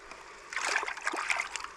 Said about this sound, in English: now I'm going to give it all another good mix again.